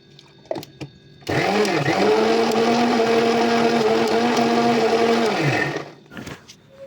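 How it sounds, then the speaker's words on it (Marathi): Mixer grinder whirring loudly as it grinds ingredients fine, a steady motor drone for about four seconds with brief clicks and handling noises before and after. "मिक्सरमधनं बारीक करून घेते"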